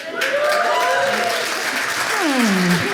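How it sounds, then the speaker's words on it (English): Comedy club crowd applauding in a steady wash of clapping, with a few voices calling out over it. "The husband gets an applause"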